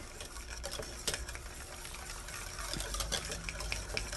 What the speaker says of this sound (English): 3/4 cup of seedless boysenberry jam. And then I'm going to whisk that in while it's still warm